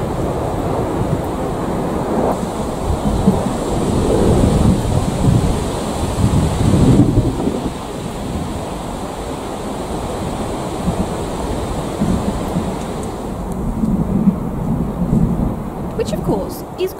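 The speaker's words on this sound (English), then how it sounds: "It makes a big storm." A big thunderstorm at sea rumbles loud and continuous, with heavy rain and wind blending into a dense, roaring wash that swells and eases slightly over time.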